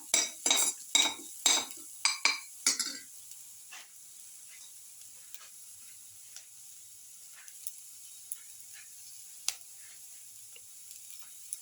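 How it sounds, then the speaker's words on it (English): Garlic pieces sautéing in a pan for a tomato rice casserole, starting with several loud clanks of a utensil against the pan, then a soft, steady sizzle with occasional faint taps, close by and with no talking. "Garlic sauté mix."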